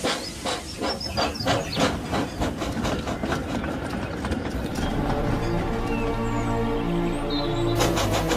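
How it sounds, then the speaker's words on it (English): Thomas the Tank Engine, a blue steam locomotive, pulls away with rhythmic chuffing bursts and hissing steam, settling into a steady rumbling run with a continuous low drone from the engine. "The driver quickly got back onto Thomas's cab. And off they went."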